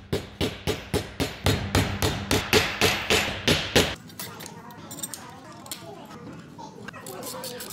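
About a dozen sharp, evenly spaced hammer blows drive steel T-nuts into over-drilled holes in a scrap-metal folding exercise bench, close and loud, then stop and leave quieter workshop handling noise.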